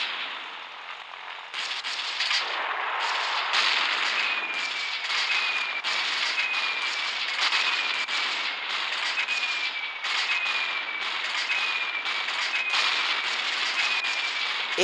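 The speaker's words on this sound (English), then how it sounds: "Eat bombs, motherfuckers!" Explosions from bombs dropped in the combat video game Gunship Battle form a dense, continuous barrage of loud bursts and crackling blasts with no talk, broken by a short lull near the start.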